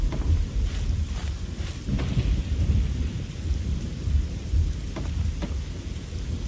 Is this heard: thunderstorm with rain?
yes